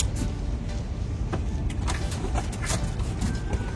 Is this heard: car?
yes